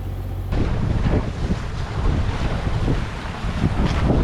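Sailboat under full main and full jib in about 15 knots of wind off the California coast between Santa Cruz and Monterey, with constant wind buffeting and water rushing against the hull, no talking.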